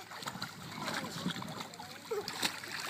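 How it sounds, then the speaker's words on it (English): A young child swims and splashes in water, producing irregular close splashes and gurgles while adult voices talk over the sound. "Look at Connor swimming now"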